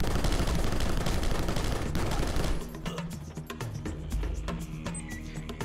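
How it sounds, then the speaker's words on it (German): Gunfire aimed at penguins in the video game Rocketbird: a dense, loud barrage at first, thinning into rapid separate shots and clatters. "Pinguin über den Haufen schießen, zweiten Pinguin über den Haufen schießen"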